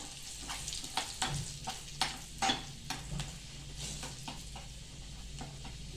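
Garlic and red chillies sizzle in hot oil for a dal tempering, a soft steady frying hiss broken by a series of quick spattering pops, with no voices.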